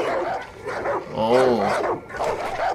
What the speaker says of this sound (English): I can hear dogs.